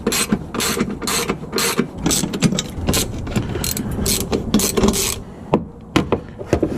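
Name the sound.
ratchet loosening bolts on a Volvo semi truck coolant reservoir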